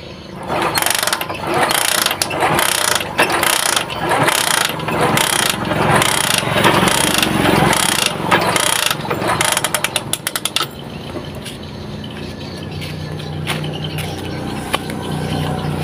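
Suzuki Shogun SP 125 motorcycle engine cranked over repeatedly with a fast mechanical churning rhythm; loud and close, then it stops and a quieter hum remains.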